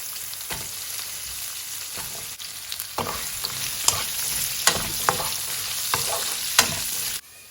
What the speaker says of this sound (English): I'm going to add a good heaped teaspoon of cumin seeds. Let them sizzle.